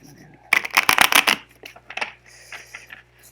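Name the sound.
shuffling a deck of cards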